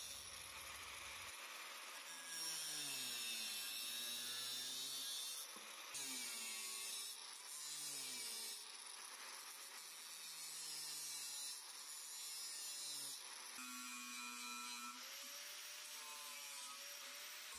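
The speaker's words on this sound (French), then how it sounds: "Arrivé à un moment on va forcément devoir s'attaquer à la lime" A hand file shapes the steel of a miniature karambit knife, making repeated rasping, scraping strokes in an uneven rhythm, close and clear with no talking.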